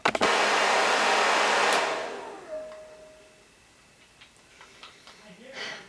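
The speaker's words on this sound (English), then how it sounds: "I'm gonna turn the heat setting back to low because as your blow dryer works" A blow dryer roars loudly and steadily on wavy hair for about two seconds, then cuts off, leaving a faint room with a brief whine and a few small clicks and rustles.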